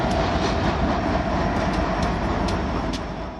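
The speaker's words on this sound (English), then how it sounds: "This coal train passes through Colorado." Coal train rolling through Colorado, a steady loud rumble with rhythmic wheel clatter and faint high squeals, continuous and close throughout.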